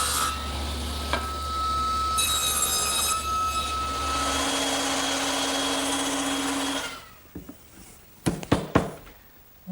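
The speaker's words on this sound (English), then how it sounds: "Now I need to cut a tenon on the end of those intermediate supports to fit into those mortises." A power saw cuts a tenon on the end of wooden intermediate supports for an English garden bench, a loud continuous whine for about seven seconds before winding down into several knocks and clatters.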